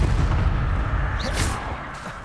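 A stunning spell cast in the Hogwarts Legacy video game, a booming blast with a brief bright whoosh over a dense, loud rumble of combat noise.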